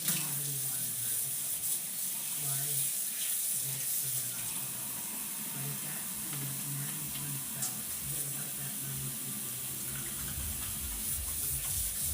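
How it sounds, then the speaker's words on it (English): Running tap water at a sink as someone washes their hands, a steady, fairly quiet splashing hiss that continues for the full stretch with small shifts in the flow. "I'm going to wash my hands"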